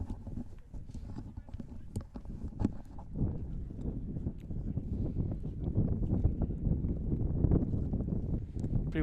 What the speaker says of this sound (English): Pretty windy now, isn't it, Tyler?